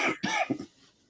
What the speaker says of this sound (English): You just said you are very well and you are coughing.